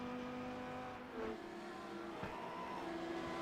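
A Lamborghini race car in iRacing strains up the hill at Mount Panorama, its engine note droning steadily with pitch rising through the gears, heard fairly quietly with no talk.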